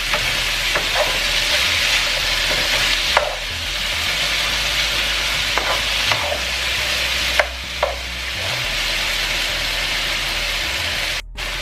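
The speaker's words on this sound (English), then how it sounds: "And we're gonna fry the potato for an additional 3 minutes" Potatoes fry in a pan with a loud, steady sizzle, while a utensil stirs them with several scraping strokes spread across the sizzle. No voices are heard.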